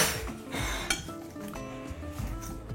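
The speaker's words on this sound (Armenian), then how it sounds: "գցում ենք սիրելի ամանի մեջ և պատառաքաղի օգնությամբ տրորում ենք" A fork mashes half a banana in a bowl, giving close, light clinks and scrapes of metal against the dish in an uneven rhythm.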